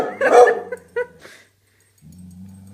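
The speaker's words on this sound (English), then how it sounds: "What are you barking at? You're barking at the DVD thing?" A pet dog barks at a DVD logo indoors: a loud yelping bark followed by a shorter whimpering yip, then a pause before a low steady hum picks up.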